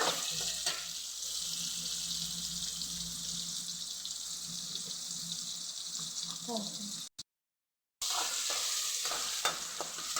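Close sizzling and frying with scraping stirring sounds as chopped tomato and onion cook in a pan, continuing steadily; a brief silent gap interrupts before the frying resumes.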